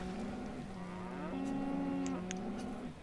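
Cattle in the city-building video game Banished moo in overlapping, drawn-out calls, several low bellows layered over a soft ambient farm background with faint chirps.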